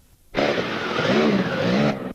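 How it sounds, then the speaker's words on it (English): Sidecar motorcycle engine roaring loudly and steadily as the outfit crosses a deep water splash at an off-road trial event, a sustained close pass with no speech. "The first sidecar we see at the water splash is number 4, Steve and Ian Barnett."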